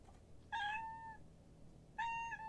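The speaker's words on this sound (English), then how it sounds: "Sorry, my cat has made me jump there." A pet cat meows twice nearby, each call clear and drawn out with a falling tail, separated by about a second of quiet indoor room noise.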